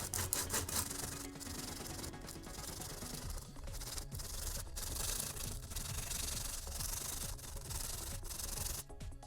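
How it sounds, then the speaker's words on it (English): Coarse 60 grit sandpaper rubbed by hand over a shaped part for a Boba Fett left vambrace, a steady scratchy back-and-forth scrubbing that runs the whole time, close and fairly loud, with no talking. "We can do that pretty easily with our old friend, the 60 grit sandpaper"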